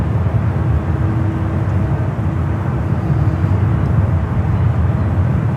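A Delta Boeing 767-300ER arriving at San Francisco airport from JFK gives off a steady, fairly loud low jet roar and rumble that holds without a break, with no talk over it.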